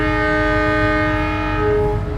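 At Brebes station, the Dharmawangsa passenger train sounds a loud, steady horn blast that holds for a couple of seconds over the rumble of the train.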